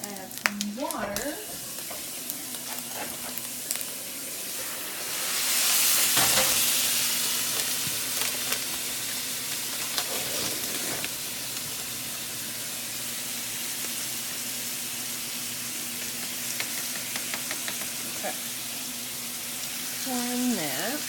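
Water poured into a hot frying pan sets off a burst of sizzling and hissing, swelling briefly then settling into a quieter steady fry with occasional clinks, in a home kitchen.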